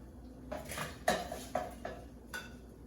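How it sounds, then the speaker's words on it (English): Potatoes being scooped into a bowl, a handful of close, soft clinks and scrapes of a utensil against the dish, spaced irregularly over a quiet background. "we're just gonna go ahead and scoop some potatoes in here"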